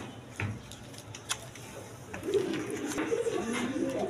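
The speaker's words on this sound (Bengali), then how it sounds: "সুপার কোয়ালিটি সম্পন্ন কবুতর, ড্যানিশ কবুতর দেখেন, একদম বিগ সাইজের দেখার মতো কবুতর" Large Danish pigeons at a pigeon market coo in soft, low repeated phrases that build through the second half, with faint background bustle and a few brief clicks.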